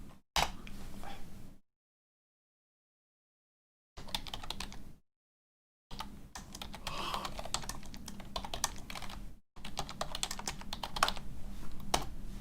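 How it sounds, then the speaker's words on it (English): Computer keyboard typing during a live game-development stream in Unreal Blueprints, steady rapid key clicks in several bursts separated by silent gaps, close and fairly loud. "You notice I just like typing sentences in."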